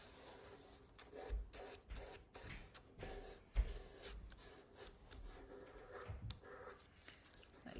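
Light sanding by hand across a varnished wooden surface, a soft raspy rubbing in short irregular strokes with a few louder scuffs, close and quiet with no talking.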